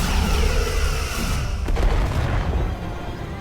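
Starship weapons firing during a space battle in Star Trek: Resurgence: heavy booming blasts rumble loudly, with a sharper discharge near the middle over a constant low roar, and no speech.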